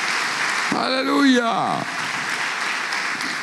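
A church congregation applauds in a steady wash of clapping through the whole stretch, while a preacher's voice calls out loudly over it for about a second.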